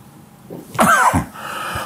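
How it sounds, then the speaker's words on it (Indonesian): A single harsh cough, close and fairly loud, with a brief breathy sound before it and quiet room tone after. "Saya masih batuk jadi ini alami."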